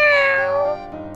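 A cat meows in the Roblox game Adopt Me: a single loud, close, falling meow lasting about a second, with nothing else around it.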